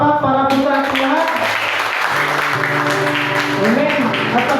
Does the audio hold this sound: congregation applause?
yes